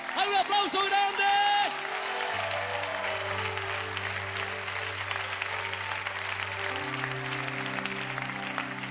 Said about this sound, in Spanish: ¡Hay un aplauso grande!